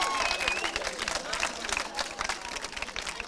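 Steady applause from a TV studio audience, a dense patter of many hands clapping continuously at moderate volume, with a few voices mixed in.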